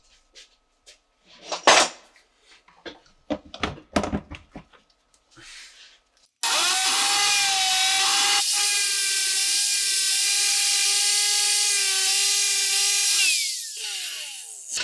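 Power tool grinding and sanding a small metal part, starting after several seconds of scattered clatter and handling noise, then a loud, steady whine with strong tonal bands that holds for about seven seconds before tapering off.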